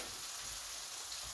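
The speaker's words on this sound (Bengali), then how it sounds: "এই যে আমার পেঁয়াজটা ভাজা অলরেডি হয়ে গেছে" Sliced onion frying in a pan while cooking rohu fish with eggplant, a steady close hiss and crackle of sizzling oil running unbroken and fairly quiet throughout.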